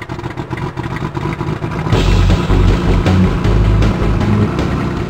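A video game airplane engine roars and revs up partway through, rising into a heavy droning rumble, with clattering noise before it.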